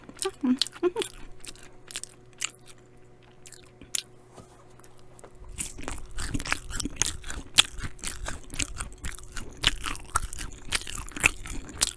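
bhc Gold King fried chicken is eaten up close with loud, crisp crunching bites and chewing, sparse at first and then dense and continuous, with some crinkling and no clear talk.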